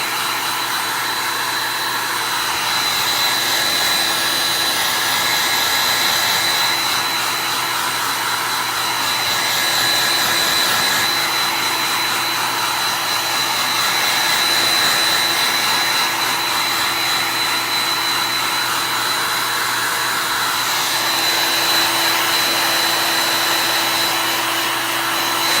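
A hair dryer blows over a chalk paste layer on a pumpkin patch craft kit, giving a constant loud, close whooshing hum that stays even throughout with no speech.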